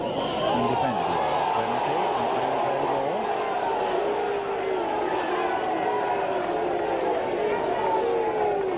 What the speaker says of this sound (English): the Mount Pleasant crowd really out of sorts at the moment